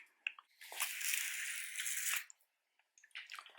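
Plastic car trim being wet sanded with 400 grit sandpaper and a little water before primer, giving a close, continuous wet scrubbing rasp for over a second between short squishy strokes and pauses.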